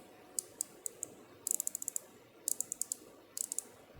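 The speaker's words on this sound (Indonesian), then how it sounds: "Jadi ketika Anda putar-putar akan ada suara klik klik klik kliknya gitu." Rotating crown of an Aolon Tetra R4 smartwatch clicking in quick bursts of small, sharp ticks as it is turned, close and alone in a quiet room.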